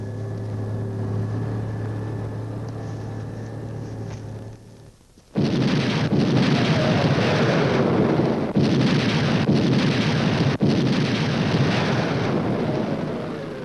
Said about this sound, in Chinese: 命令所有炮兵向摩天岭轰击